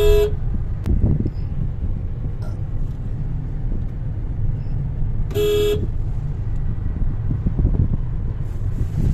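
A car driven slowly on a road, with a steady low engine and road rumble throughout, a brief horn toot partway through, and some wind buffeting the microphone.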